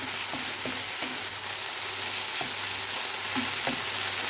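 Eggplant filling seasoned with black pepper and dried garlic stirred in a sizzling pan, a steady frying hiss with several soft scraping knocks of the spoon, close and without speech.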